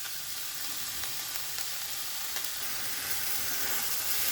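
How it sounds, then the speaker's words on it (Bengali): A paste of tomato, ginger and green chili fries in a pan among mixed winter vegetables, making a steady, dense sizzle with occasional scraping clicks as it is stirred, and no voices. "টমেটোর পেস্টটা দিয়ে খুব ভালোভাবে মিশিয়ে নিয়েছি এবং আরও খানিকক্ষণ আমি এটাকে নেড়ে চেড়ে নিলাম"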